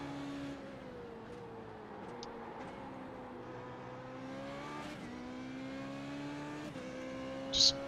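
A Formula Renault 3.5 single-seater engine in iRacing at Fuji holds a steady high drone, its pitch rising and dipping through gear changes and corners, loud and alone with a brief sharp chirp at the end.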